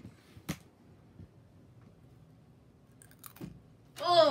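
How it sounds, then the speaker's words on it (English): Food crunches while being chewed, a few sharp bites spaced over several seconds in a quiet room, followed by a louder burst of noise at the end. "Oh, crunch."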